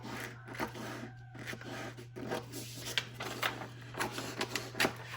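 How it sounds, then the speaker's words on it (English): Scissors cut a Ninja DTF transfer sheet in a series of close, quiet snips and papery rasps at an irregular pace over a steady low hum. "I'm just going to cut it."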